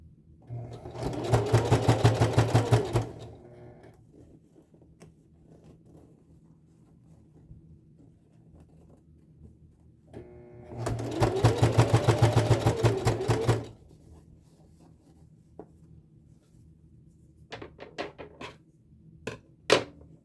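A Singer heavy duty sewing machine stitches a zipper into a corset in two loud, steady bursts of about three seconds each, with quiet handling noise between them and a few sharp clicks near the end.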